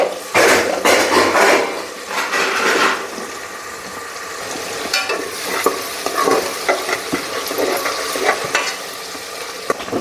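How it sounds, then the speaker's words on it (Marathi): Onions and cumin frying in hot oil in a home kitchen, a loud steady sizzle with bursts of crackle and occasional stirring clinks throughout. "आता तेल गरम झालंय. आता मी जिरं टाकणार आहो. मग आता कांदा घालणार आहो."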